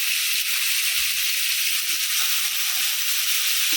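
Sprouted moth beans (matki) dropped into a pan of frying onions and peas, a bright, steady sizzle close by with a faint soft thud early on, no talking.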